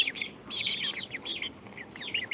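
Country chickens cluck and chirp in short, lively bursts while eating feed close by, at a low overall level with no talk.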